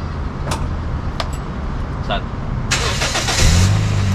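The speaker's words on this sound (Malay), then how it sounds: "kita start dia bagi enjin panas lah" A Toyota Vios NCP93 engine with a faulty ignition coil turns over and catches partway through, then settles into a steady idle; a few clicks and knocks come before it, with a voice nearby.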